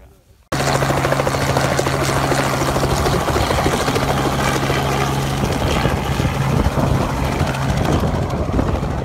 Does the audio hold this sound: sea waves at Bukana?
no